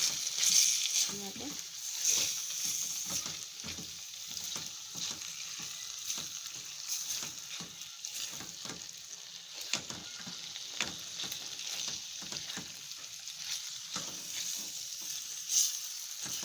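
Fenugreek leaves dropped into a pan of mixed vegetables frying in oil, giving a steady close sizzle with scattered light clicks and scrapes of stirring, no talking.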